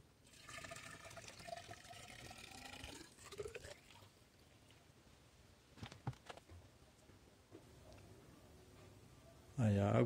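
Water poured into a segmented wooden marquetry vase to test it is watertight, a gurgling pour for a few seconds, then quieter trickles and a loud knock at the end.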